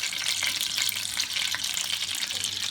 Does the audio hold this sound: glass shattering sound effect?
no